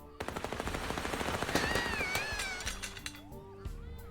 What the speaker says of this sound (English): Now with real bullets.